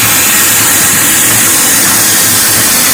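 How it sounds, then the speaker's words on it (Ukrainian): A retro steam locomotive pulling a holiday train in Lviv hisses with a steady, loud broadband rush of steam. It continues unbroken for three seconds, with a low engine rumble underneath and no voices. "Це є потяг, який тяне на пару, як ви бачите."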